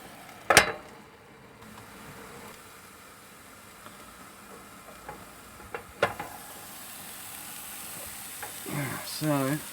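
Frozen hash browns fry gently in a pan inside a micro camper, a soft continuous sizzle with a sharp clatter early on, another knock midway and a brief voice near the end.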